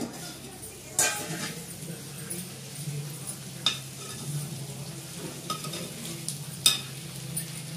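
Guntur-style stuffed eggplant curry sizzles and fries in a pan, with spoon stirring and occasional sharp metal clinks against the pan over a steady low sizzle.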